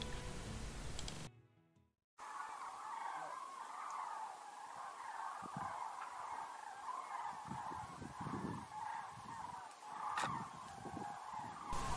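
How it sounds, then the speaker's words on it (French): Migrating cranes fly over the Luberon ridge in Provence, their honking calls carrying from a distance over a constant hiss of wind, repeated irregularly after a brief gap of silence near the start. "Les grues profitent de l'ascendant créé par les monts du Luberon pour reprendre de l'altitude et continuer leur voyage vers le nord."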